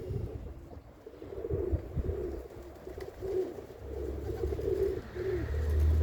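Eurasian collared dove cooing outdoors in repeated soft three-note phrases, moderately near, over light wind and low background rumble.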